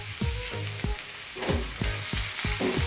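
Berbere spice frying for fasting dirkosh firfir gives a loud, close sizzle, while a spoon repeatedly knocks and scrapes against the pan in a quick, uneven rhythm.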